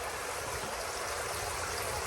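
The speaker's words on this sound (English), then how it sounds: "what that pump is doing is it's pulling the water from the bottom, going up through this hose here" Water pumped up from the bottom of a homemade bait tank runs through a hose and pours into a bucket, making a steady, close trickling splash with no pauses.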